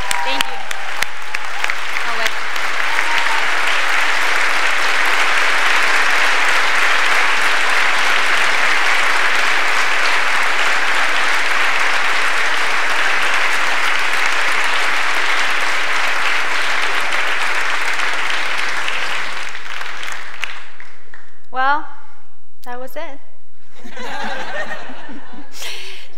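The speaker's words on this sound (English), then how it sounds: "Give yourself a round of applause." Large conference crowd at the WordCamp Europe 2016 closing in Vienna breaks into long, loud, sustained applause with a few laughs mixed in, then the clapping dies away into quiet murmurs near the end.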